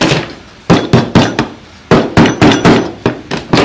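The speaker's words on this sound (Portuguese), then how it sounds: "Vou dar uma batida com macete aqui, com alguma coisa, só para poder calcar isso aqui" A mallet taps on wood in a woodworking shop to mark a spot for a drawer pull: a few sharp, loud knocks come in two quick clusters with short pauses between them.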